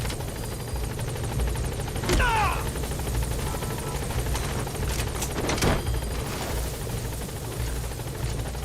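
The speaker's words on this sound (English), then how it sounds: "Support helicopter has arrived." A support helicopter arriving in Metal Gear Solid V: The Phantom Pain: continuous rotor drone with a low rumble, steady throughout, with brief electronic chirps and sweeps layered over it.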